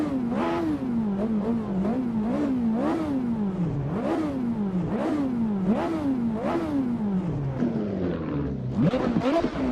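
A manual sports car engine revs repeatedly in a driving video game set on the Nürburgring, rising and falling in rapid surges through gear changes, loud and alone without talk.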